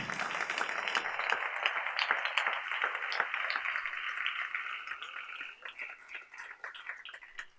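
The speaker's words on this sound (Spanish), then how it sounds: "Denle ese aplauso al Rey" A church congregation at a morning service claps in a dense wash of applause that stays full for several seconds, then thins out and fades.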